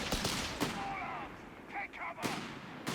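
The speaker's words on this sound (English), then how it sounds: "Meanwhile, Heartless Jäger decided to go for the machine gun rather than the grenade launcher." Machine gun fire from the World War II strategy game Company of Heroes 3, heard as rapid bursts of shots with heavier booms, dense and fairly loud through the whole stretch, with faint voice beneath.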